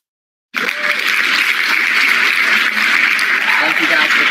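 Participants on a live online call clap together after a sudden start, a loud, dense, steady round of applause with some voices mixed in.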